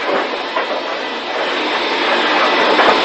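A train runs along a British main railway line in the early 1960s, a loud, steady rumble and rush of rolling stock with faint rhythmic wheel clatter, close by and continuous.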